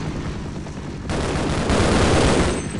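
Sustained automatic SMG fire from the co-op shooter Half-Life: Decay, a dense rattling burst that grows louder and fuller partway through and keeps going steadily to the end, with no talking.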